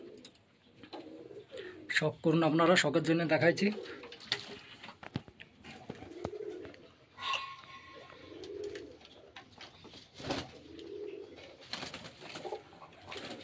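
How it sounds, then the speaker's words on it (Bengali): Several pairs of pigeons kept for sale coo close by, with a dense burst of throaty calls early on and softer coos scattered afterward beneath someone talking. "এই যে 3 জোড়া পায়রা মেল।"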